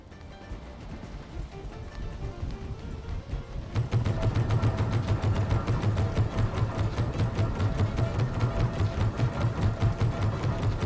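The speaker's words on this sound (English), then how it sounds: "Sounds like some sort of a really, really old school engine going." An old-fashioned engine in the Valheim game starts up and chugs with a fast, steady mechanical rhythm, moderately loud and continuous after a quieter ambient opening.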